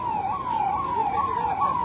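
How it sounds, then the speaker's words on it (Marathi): A fire engine siren at an industrial fire in an MIDC area wails in a steady rising and falling cycle, loud and continuous, with traffic rumble underneath. "अग्निशमन दलाच्या या गाड्या आपल्याला पाहायला मिळतात"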